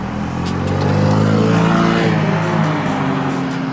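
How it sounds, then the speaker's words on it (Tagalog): A Suzuki Smash motorcycle with a 113cc four-stroke carbureted single overhead cam engine revs loud and close, its hum climbing in pitch before a shift midway, then pulling on. "the Suzuki Smash is equipped with a 113cc 4-stroke carbureted single overhead cam engine"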